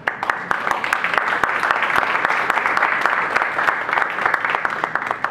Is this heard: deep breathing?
no